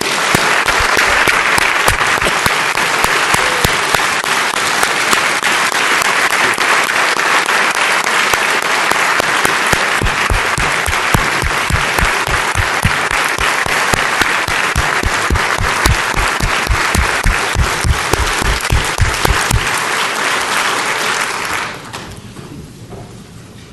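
Sustained audience applause in a large hall during the Nevada State of the State address, dense loud clapping that holds steady for about twenty seconds, then fades out near the end.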